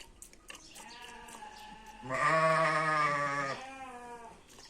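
A sheep or goat in a village milking pen lets out one long, loud, wavering bleat in the middle, with a few softer animal calls and small rustles before and after.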